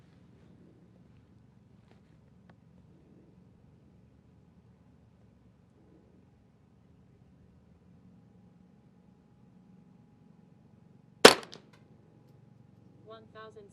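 A semi-auto rifle firing Eley ammunition: a single sharp report cracks out after a long, quiet stretch of faint outdoor wind, followed by brief low rustling.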